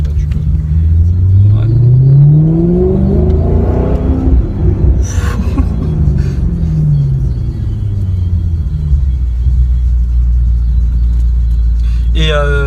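Maserati GranTurismo S engine revving on the road, a deep rumble that rises and falls through several gear changes, loud and close inside the car, with people talking over it.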